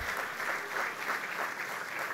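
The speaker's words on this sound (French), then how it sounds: "Oui, merci Jimmy, je pense qu'on peut les applaudir." A hall audience claps steadily through the closing speech of a 2023 political gathering, a dense, even wash of applause with no voices over it.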